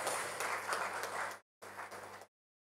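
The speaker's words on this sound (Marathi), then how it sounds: "जोरदार टाळ्या झाल्या." Audience applause at a public speech event, a burst of many hands clapping that stops sharply, then a second shorter round that also cuts off abruptly, fairly faint and without any speech.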